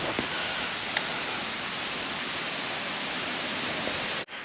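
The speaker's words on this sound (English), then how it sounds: "That sound of running water." Running water near a hilltop at the top of a cycling climb in Costa Brava, a steady, full rushing hiss that continues without a break and cuts off abruptly near the end.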